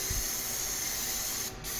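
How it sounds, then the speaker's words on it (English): Oil-based Kilz primer sprays steadily from a sprayer onto the walls of a trashed rental house, a close, continuous airy hiss that breaks off briefly near the end before resuming. "And now some spray oil-based Kills."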